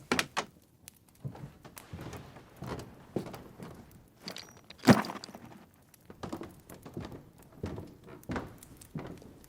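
Door handling and footsteps in a house sound as a scatter of faint, close knocks, clicks and shuffles, with one sharper, louder thump near the middle; no talking.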